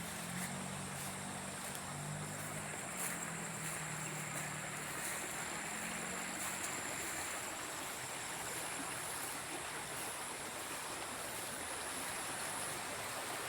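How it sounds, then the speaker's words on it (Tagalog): A creek flows past, giving a soft, steady wash of running water throughout, with a faint low hum early on. "Ayan po yung sapa."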